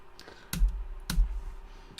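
Keys on a small computer keyboard are pressed in a few sparse, soft clicks, two of them a little louder, over a quiet background.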